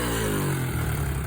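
A small 90cc dirt bike engine, a homemade pit-scrambler build on a used ignition coil, runs steadily up close with a dense, buzzing clatter and no talking.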